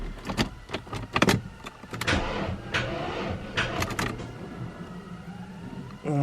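A car engine cranks in the cold and fails to start, with close, uneven whirring and clicking bursts from the starter that stutter, pause and resume without catching, and no talking.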